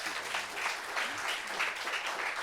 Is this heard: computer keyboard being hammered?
no